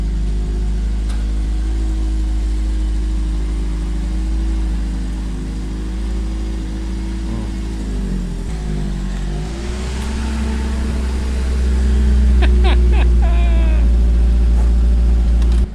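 A Toyota AE86 idles with a steady, loud mid-pitched drone, then the revs climb and fall and rise again as the throttle is opened, with a brief chirp near the end and faint voices underneath.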